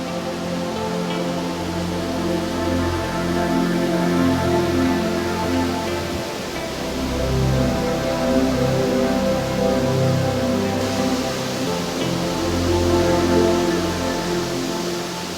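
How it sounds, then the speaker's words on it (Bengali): Dympep waterfall, its water milky white, gives a loud, continuous rushing roar close by that swells and eases slightly over the whole stretch, with no voices heard. "এই হচ্ছে ঝর্ণা।"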